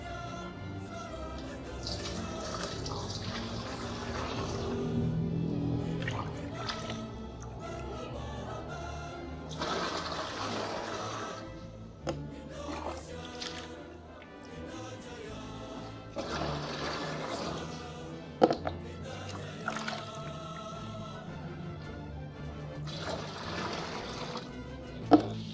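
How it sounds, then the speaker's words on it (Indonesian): Ten liters of water pour into a container for mixing disinfectant, a continuous rushing, splashing flow at moderate distance that thins out and resumes, with a few sharp knocks and clicks near the end. "Kita masukkan dulu sebanyak 10 liter air"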